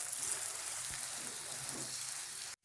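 Mooli paratha cooking in ghee on a pan over a low flame gives a soft, even sizzle and hiss that runs steadily, then cuts off abruptly at the end.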